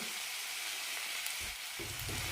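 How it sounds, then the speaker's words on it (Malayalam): Tomatoes, green chilies and mint leaves sauté with onions in a pan, making a dense, continuous sizzle with a low rumble of stirring near the end. "തക്കാളി നന്നായി വെന്തുടയുന്നത് വരെ വഴറ്റിയെടുക്കാം"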